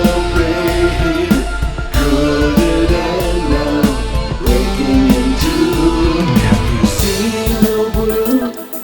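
Orchestral strings from the Easy Strings VST play a dense, full passage of layered violin lines with quick runs and sustained chords, loud and close throughout.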